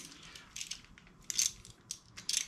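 A ratchet works loose the spark plug on a Predator generator, with a 21 mm (13/16) socket on it: short bursts of crisp clicking come in quick clusters, fairly faint and close.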